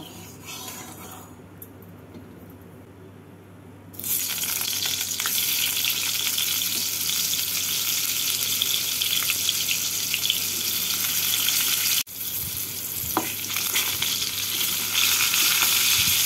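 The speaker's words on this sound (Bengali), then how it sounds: "এর মধ্যে পটলগুলোকে হালকা করে ভেজে তুলে নেব।" Pointed gourd (potol) slices fry in hot white oil in a wok. After a quiet start, a loud, steady sizzle sets in and carries on to the end, briefly dipping once partway through.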